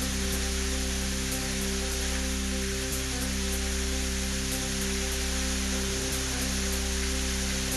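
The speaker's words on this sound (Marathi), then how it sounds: "हिंगोली जिल्ह्यामध्ये मुसळधार पावसाची हजेरी." Heavy rain pours down in Hingoli district, Maharashtra, as a dense, unbroken hiss that stays steady and loud throughout, with a faint low hum underneath.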